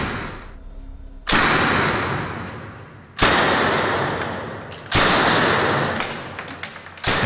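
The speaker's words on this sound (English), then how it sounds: "So Thompson gave his weapon a semi-automatic option, where it fires and reloads just once for each squeeze of the trigger." A Thompson submachine gun fires single semi-automatic shots, three loud separate cracks spaced about two seconds apart, each trailing off in a long echoing decay.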